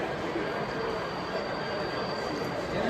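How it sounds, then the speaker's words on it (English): HO scale model train running on a large room-circling layout at a railroad society train show, giving a steady continuous rumble and rolling clatter with a faint whine, amid the background noise of an indoor exhibition hall. "And here we go with a pretty long train."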